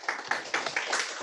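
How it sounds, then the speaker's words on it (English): Applause from an audience at an academic lecture on brain structural covariance, a moderately close round of clapping with distinct bursts of hands rising and falling in an uneven rhythm. "Get a round of applause before"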